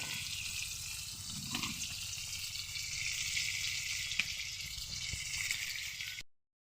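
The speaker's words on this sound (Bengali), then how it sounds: "চলো মাছটা আমি ভেজে নিই" Fish sizzles in hot oil in a home kitchen, a steady crackling hiss that holds evenly throughout, with a few faint knocks and clinks, then cuts off abruptly.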